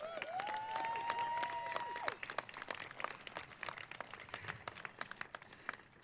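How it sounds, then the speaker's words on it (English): Audience applauding lawyers at a Law Day event in Maine, a moderate round of clapping with a rising whistle-like tone early on, the claps thinning toward the end. "to the lawyers, I want you to applaud every one of them"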